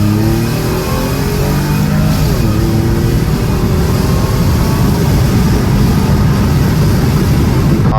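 A Mercedes C32 AMG fitted with a 63mm supercharger pulley accelerates hard, its engine roaring loud and close in a sustained, climbing pull with supercharger whine layered over the exhaust, no voices.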